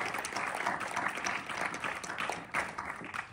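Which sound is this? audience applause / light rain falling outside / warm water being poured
audience applause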